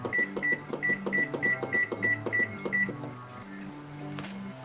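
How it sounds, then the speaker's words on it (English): A kitchen timer is set for 10 minutes while chili cooks, giving about nine short, evenly spaced beeps as its buttons are pressed, followed by a softer steady hum. "I go over here and set the timer for 10 minutes."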